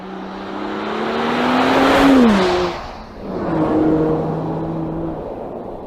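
Mercedes-AMG GLE 53 SUV accelerating hard from a standstill to about 90 km/h, its engine note climbing loud and close through the gears with a brief dip at a shift before pulling strongly again.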